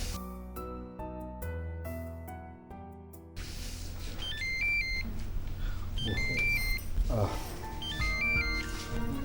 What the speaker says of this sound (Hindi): एक तो इस फोन की बेल ने जिंदगी अजाब की हुई है।